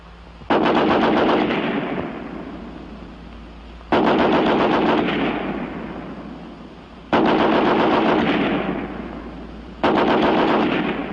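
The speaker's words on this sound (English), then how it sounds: "In this test, each weapon will fire 30 rounds. First, the American Light 30 on the bipod." American Light 30 machine gun fired from its bipod, 30 rounds delivered in four loud sustained bursts, each fast rattling string ending in a long echoing decay before the next.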